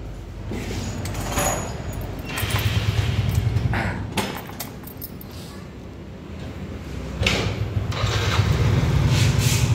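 A motorcycle engine is started with the starter after repair work on its idle, then runs at a steady idle nearby, with a speaking voice over it.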